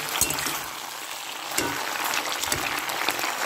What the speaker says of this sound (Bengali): আমি এবার আরেকটুখানি নাড়িয়ে দিচ্ছি। হ্যাঁ, একটু ভাজা ভাজা মতো হবে